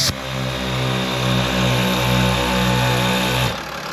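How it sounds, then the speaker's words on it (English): ARB onboard air compressor mounted in a Sprinter van switching on and running, a loud steady motor drone with a fluttering pulsing hum, cutting off near the end. "so you can hear you'll hear the compressor turn on right now"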